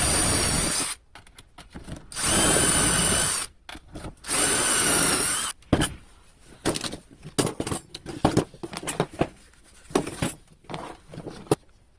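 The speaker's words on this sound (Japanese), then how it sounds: "ドリルで穴を開けます。" A power drill whines loudly in three long bursts drilling dowel holes in wood, each lasting about a second, followed by scattered clicks and knocks of handling parts.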